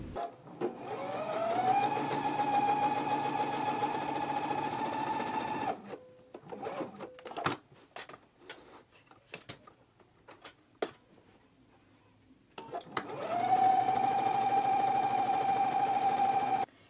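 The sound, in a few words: sewing machine sewing gathering stitches on pants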